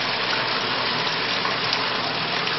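Water rushing steadily through a Bradley Navigator emergency thermostatic mixing valve set to about 85 degrees, a constant loud broadband hiss with no pauses or voices.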